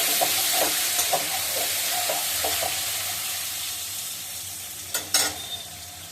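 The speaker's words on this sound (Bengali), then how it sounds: "আর এদিকে আলুটা ভাজা হয়ে গেছে।" Potatoes fry steadily in a pan with a constant close sizzle and hiss, broken by a few light stirring clinks and a couple of louder scrapes near the end; nobody speaks.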